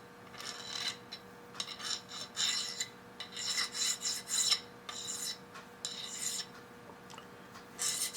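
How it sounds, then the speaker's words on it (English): A file or deburring tool rasps against the cut end of a metal piece in a workshop, a series of short, bright scraping strokes in irregular rhythm, close and fairly quiet, with no one speaking. "I'm gonna deburr the end of this real good"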